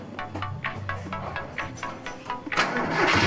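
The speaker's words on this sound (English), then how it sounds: "And then check the engine sound." Car engine cranking after cylinder head and valve clearance maintenance, a rapid rhythmic starter churn of about a dozen pulses before the engine catches and settles into a steady run, no voices.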